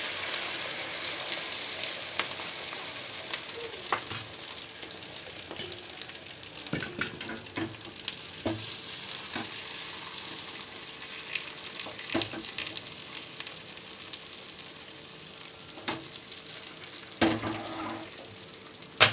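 A bread omelette of beaten eggs with chili powder and salt fries in a pan over low heat, giving a steady soft sizzle with occasional light clicks and scrapes, quiet and close with no talking.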